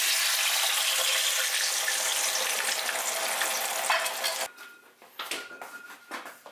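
Garlic and a can of black beans hit hot oil and water in a pan and sizzle loudly as a steady dense hiss, which then drops off sharply into softer spatters and crackles.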